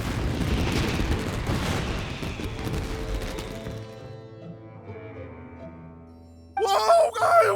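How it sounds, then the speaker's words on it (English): Fireworks burst in the video game Genshin Impact: a dense, loud barrage of booming blasts and crackle that thins out over several seconds, leaving a sustained tonal ring, before a sharper burst of sparkling pops at the end. "Yoimiya, this is turning into a bit of a fireworks display."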